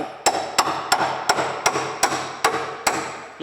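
A hammer strikes metal in a steady series of about eight sharp, evenly spaced taps, close by with no talking.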